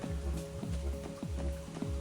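Soft rain patters steadily in the game Trails from Zero, a faint, even hiss of falling drops beneath a quiet sustained musical tone.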